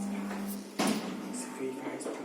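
Lift doors in Newcastle close with a single sharp thud about a third of the way in, standing out above a steady hum, with a voice heard around it.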